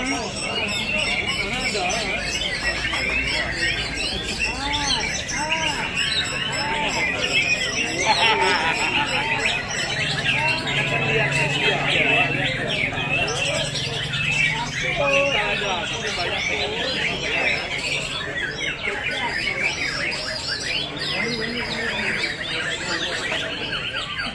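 White-rumped shama birds sing at a crowded song contest in Banda Aceh, a dense, continuous tangle of loud, rapid whistles, trills and chirps from many birds at once, with crowd voices murmuring underneath throughout.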